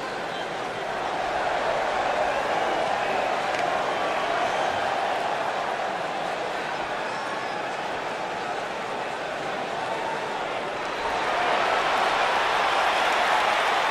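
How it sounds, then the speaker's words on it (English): A wrestling arena crowd at a SmackDown Women's Championship TLC event roars in a steady, dense wash of cheering and clapping that swells louder near the end. "Sounds to me, guys, like this crowd is ready to get this night started."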